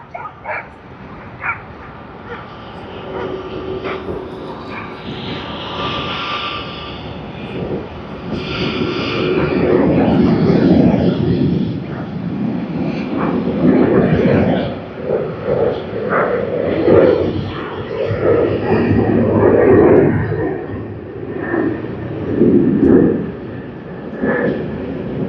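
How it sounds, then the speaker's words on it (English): A plane taking off at Sydney Airport rises into a broad, loud jet roar that swells and lingers for many seconds, rumbling through the scene with occasional faint background noises. "in the background, we see a plane taking off"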